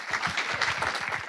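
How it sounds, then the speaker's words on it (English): An audience at a technology keynote gives a warm round of applause, a dense, steady wash of many hands clapping at close range with no speech over it. "give a warm round of applause for Amanda Silver."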